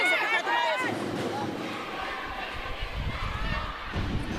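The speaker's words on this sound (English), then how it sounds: "Are you hearing the cheers from the crowd?" A crowd at a PLDT vs Akari professional volleyball match makes a roar and hubbub under steady live commentary.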